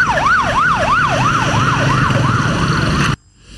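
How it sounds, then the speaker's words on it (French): Loud ambulance siren in a wail pattern, rising and falling steadily for about three seconds before cutting off abruptly, traffic rumble underneath. "les ambulances continuent à donner de la voie pour se frayer un chemin"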